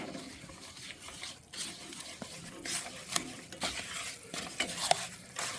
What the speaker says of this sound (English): Gonna stir this.